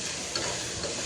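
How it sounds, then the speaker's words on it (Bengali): Onion with crushed garlic, bay leaf and green chilli frying in hot oil, a steady dense close sizzle throughout with no voices. "এখন একটু নেড়ে চেড়ে পেঁয়াজ দিয়ে দিলাম।"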